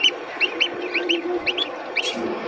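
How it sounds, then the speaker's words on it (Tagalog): Newly hatched ducklings in an egg incubator give short, high peeping calls in quick irregular bursts over a steady hum, close and clear, with no talk. "Ang ating itik bagong pisa pa lang guys."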